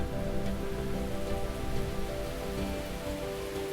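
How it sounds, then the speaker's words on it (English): Steady rain falls on a surface as a dense, continuous patter with no pauses, loud and close during a solo motorcycle trip along the Swedish and Norwegian TET on a CRF300, with no voices. "I'd had a very short respite from the rain, but it didn't take long to come back."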